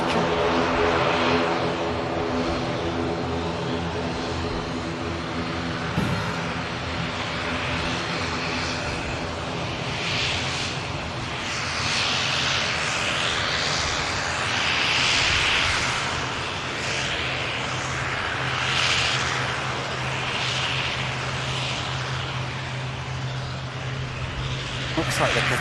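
A Norwegian airliner taxis out for departure at Manchester Airport, its engines a steady droning hum with tonal whine that swells and fades a little, while people talk over it.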